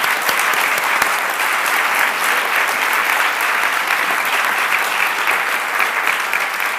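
Studio audience applause during a television interview, a dense, even roar of clapping that holds steady for several seconds, loud and close with no voices over it.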